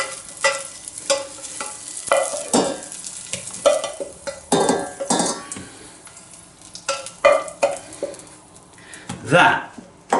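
Oyster mushrooms cook in a pan, with a soft sizzle under repeated loud scrapes and clacks of stirring, close by, in bursts with short pauses between them.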